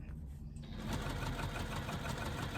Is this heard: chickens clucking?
no